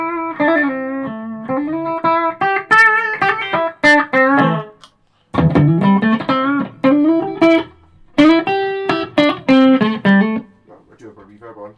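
Electric guitar through a Supro Black Magick 25-watt amp with reverb, clean tone without distortion pedals, playing melodic phrases and chords in bursts with brief pauses, loud and close.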